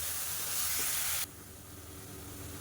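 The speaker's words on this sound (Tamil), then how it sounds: "அதை நல்லா வதக்கிக்கலாம் அந்த வெங்காயம் இஞ்சி பூண்டோட பச்சை வாசனை போகிற அளவுக்கு வதக்கிக்கலாம்" Ground shallots with ginger garlic paste hit a hot pan in a loud hissing sizzle that cuts off abruptly midway. A much fainter low background hum is left, with no speech.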